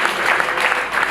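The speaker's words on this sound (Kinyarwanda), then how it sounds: "Amashyi menshi cyane." An audience at a wedding ceremony applauds, a loud, dense burst of many hands clapping together in a short, continuous stretch.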